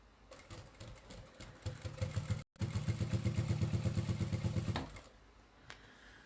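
A sewing machine quilts a cathedral windows table runner in fast, steady stitching bursts, stopping briefly mid-run, then resuming loud and even before winding down into quiet handling.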